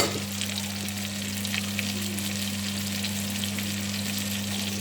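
Beef liver cooking in a pan, a continuous close sizzle and crackle over a low steady hum from the stove, even throughout with no talking.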